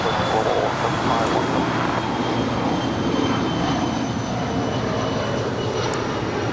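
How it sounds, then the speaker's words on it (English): A Mitsubishi Challenger 850 jet departs runway 25 Right at Los Angeles International Airport, bound for Las Vegas. Its engines give a steady, broad roar that holds level throughout, with faint voices underneath. "That is a Mitsubishi Challenger 850 departing to Las Vegas"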